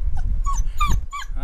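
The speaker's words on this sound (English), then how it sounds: "got a new German Shepherd puppy" A new German Shepherd puppy in a workshop gives a run of high, thin whimpers and whines in short bursts, close and fairly loud.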